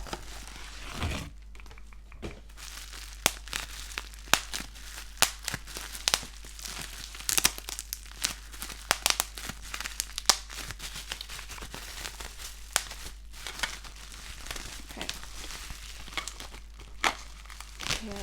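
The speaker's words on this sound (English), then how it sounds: "Let me open it up without ripping the packaging, hopefully. Here we go. It comes in bubble wrap." Plastic bubble wrap around a tea shipment is pulled open and handled, giving a run of close, dense crinkles and crackles, with sharper tearing bursts scattered all through and no talking.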